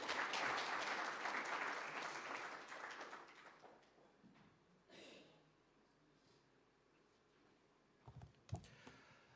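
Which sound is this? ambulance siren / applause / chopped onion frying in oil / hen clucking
applause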